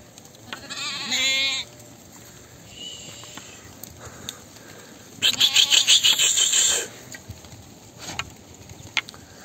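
Freshly shorn sheep bleat in two loud, wavering calls a few seconds apart, close by, over quiet outdoor background with occasional small knocks.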